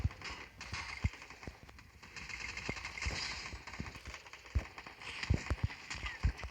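Rapid gunfire from a shooting video game crackles in bursts and single shots, with sharp reports scattered over steady background game noise.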